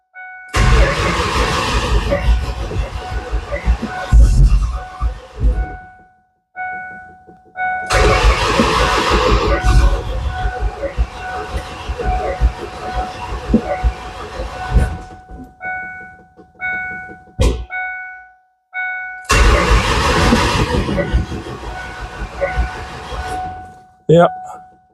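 A turbocharged 460 Ford engine in a Mustang cranking on its first start attempt, with several bursts of starter cranking separated by pauses, close and loud, and some short electronic tones between them.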